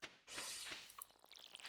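Crops being watered with a watering can in the farming game Stardew Valley, a short bright splashing pour followed by a few small dripping and clicking game effects, alone without speech.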